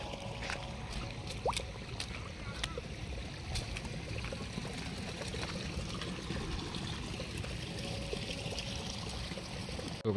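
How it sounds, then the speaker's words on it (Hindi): Water trickles and flows over rocks at the Arna Jharna waterfall near Jodhpur, forming a soft, continuous babble heard from nearby. A few faint clicks and splashes stand out from the flow. "ये देखो यहाँ से भी ये पानी अपना रास्ता बना रहा है।"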